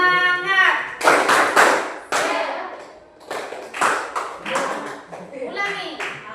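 An Islamic religious education class does the 'tepuk semangat' clapping chant, children's voices chanting in rhythm with sharp bursts of group claps in short patterned sets.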